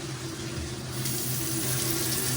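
Water runs steadily from a sink faucet in a home where a hot water heater has just been installed and the taps are being bled of air; a continuous close hiss and gush without pauses.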